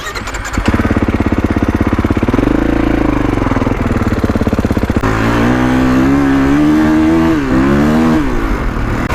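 A 2021 Kawasaki KX450X dirt bike roars close up as it is ridden hard, its engine revving loudly with rising and falling pitch as the throttle opens and shifts, continuous and dominant throughout.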